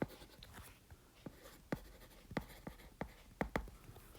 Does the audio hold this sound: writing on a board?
yes